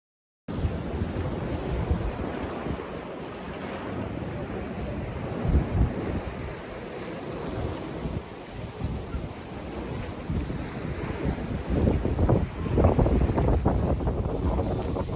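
Strong wind buffets the microphone while sea waves wash against a Cornish harbour in December, a continuous loud rumble and hiss with surges of surf, and no one speaks.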